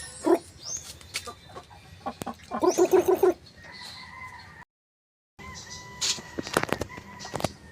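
A chicken clucking and calling close by in short bursts, with a brief crow-like run of notes, pauses and a short silent gap; a lame chicken being treated.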